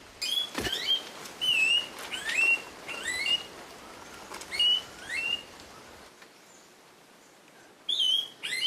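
An endangered Seychelles black parrot calls from dense island bush, with a series of short whistled chirps in bursts separated by pauses and a final burst after a quiet gap.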